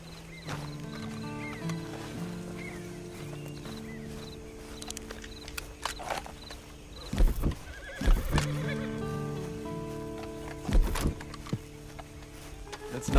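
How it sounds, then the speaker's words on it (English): A horse in the Red Dead Online video game whinnies repeatedly with clip-clopping hooves, the neighs standing out loudly at intervals over steady in-game background sound. "you better get on this horse"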